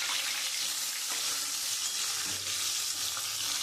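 Murrel fish sizzling in hot oil in a wok as the fried pieces are lifted out, a constant close crackle with a few soft scrapes and knocks of the utensil.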